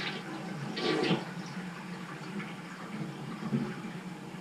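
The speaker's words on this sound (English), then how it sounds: "I'm going to try flushing this toilet." A clogged household toilet is flushed, a close rushing gurgle that surges near the start and then settles into quieter running and refilling water.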